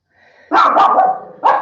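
A dog barks indoors, a faint low growl leading into a loud close bark with a quick second yip, then another sharp bark after a brief pause.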